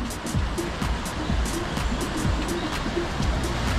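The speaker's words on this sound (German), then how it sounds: "Ihr seht das Wasser, was da oben von dem kleinen Bach hier hineinströmt." Continuous rushing water from a small stream flows nearby into a pond, a steady broadband wash with faint rhythmic ticking, with no voices.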